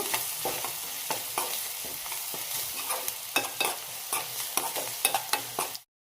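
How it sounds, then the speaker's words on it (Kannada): An onion mixture with chili powder and garam masala frying in a pan for onion bread roast, with a constant close sizzle and regular scraping stirs of a spatula until it stops abruptly. "ಸ್ವಲ್ಪ ಖಾರದ ಪುಡಿ, ಸ್ವಲ್ಪ ಗರಂ ಮಸಾಲ ಹಾಕಿ ಫ್ರೈ ಮಾಡ್ಕೋಬೇಕು."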